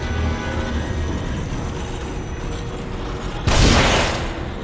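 A single heavy, booming gunshot bursts out near the end over a constant rumbling background in the horror game The Evil Within (The Consequence DLC), with no talking.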